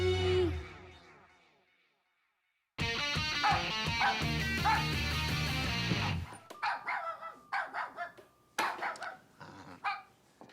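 A dog barks in a few sharp, separate bursts near the end, following a loud stretch of music and a brief silence.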